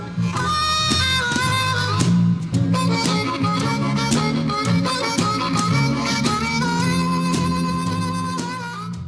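Blues lick played in full, busy and dense with quick repeated notes and steady rhythm, loud and close, with no voices over it.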